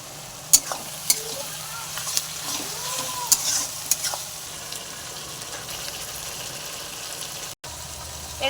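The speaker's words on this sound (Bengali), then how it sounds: "চাউমিন দিয়ে ভালো করে নেড়ে" Chow mein noodles stir-fried with soy, chili and tomato sauces, a steady sizzle under scattered scraping and clinking of the utensil against the pan at close range, with no voices.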